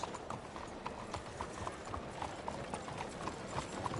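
Steady clip-clop of horse hooves walking at an even pace in the video game Red Dead Redemption 2, close and continuous, with no talking.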